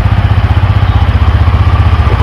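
A Yamaha R15 V4 motorcycle idles up close, a loud, steady low engine thrum with an even mechanical pulse and no voice over it.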